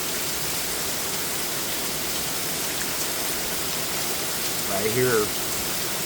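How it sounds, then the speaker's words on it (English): Heavy rain pours steadily in Chandler, Arizona, a dense continuous hiss close by, with someone speaking briefly near the end. "I've never seen it rain like this here in Arizona."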